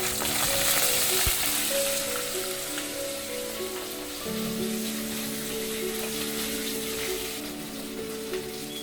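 Green chillies, curry leaves and whole cinnamon sizzle and crackle steadily in hot oil for a mutton kuzhambu, a dense continuous frying hiss up close with a brief clink partway through.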